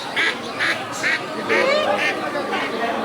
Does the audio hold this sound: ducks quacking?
yes